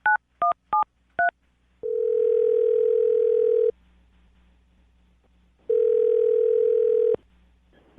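A telephone being dialed: four quick, clear touch-tone beeps, then a steady dial tone that stops, comes back, and stops again. The line stays quiet between the tones, with no voices.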